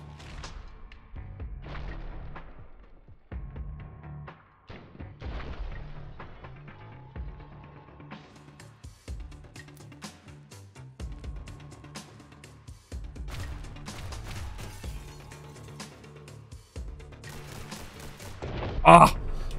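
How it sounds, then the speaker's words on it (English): Repeated heavy shotgun blasts in the action game The Hong Kong Massacre, booming low thuds fired in irregular clusters over a game soundtrack, with a sharper loud hit near the end. "Shotgun."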